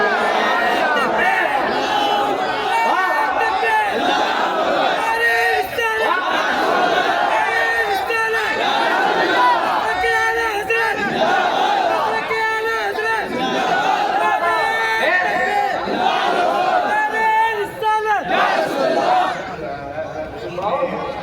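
A large crowd at a Jama Masjid gathering in Mankapur raises a loud, continuous chant of a slogan, with voices swelling and overlapping in waves throughout and thinning slightly near the end.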